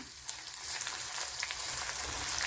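Ginger pieces frying in oil crackle and sizzle softly and continuously, a fairly faint close spatter with no voices.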